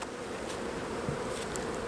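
A dense, steady buzz of many bees fills the air at an open beehive during a hive split, close and continuous with no talking.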